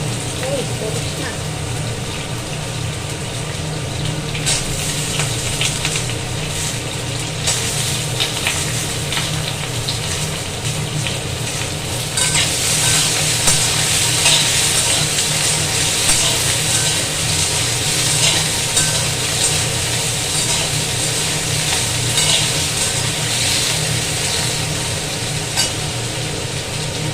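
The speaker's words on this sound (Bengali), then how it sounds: "আলুগুলো একটু ভাজা হয়ে গেল লাল লাল করে" Potatoes frying in a pan with green chillies, a steady hiss and crackle of hot oil with occasional stirring scrapes that intensify partway through.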